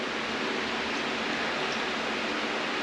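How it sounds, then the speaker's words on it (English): Steady, even rushing air from fans blowing inside a trailer fills the space, a constant broadband hiss with no pauses or changes. "Sorry about the noise. It's the fans blowing in the trailer"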